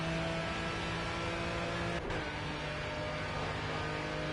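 Race car engine in the Project CARS racing game, a steady loud drone with sustained engine tones and a brief dip near the middle, continuous throughout.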